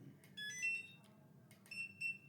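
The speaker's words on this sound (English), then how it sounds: "I think you get a beep voice here, so I scan that." Two short bursts of high electronic beeping, a pair of quick tones each time, over a low steady hum of room noise.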